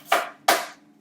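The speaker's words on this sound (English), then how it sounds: "So we're just chopping them up" A knife chops apples and pears on a cutting board, landing two crisp, close cuts about a third of a second apart, each ending in a quick decay.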